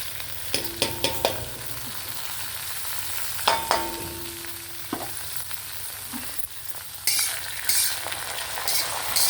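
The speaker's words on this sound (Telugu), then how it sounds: "ఇప్పుడు శనగపప్పు వేస్తున్నాను." Chana dal frying in a pan, stirred now and then: a steady sizzle with scattered scraping clinks and sharp spoon knocks, close and moderately loud, with no voices.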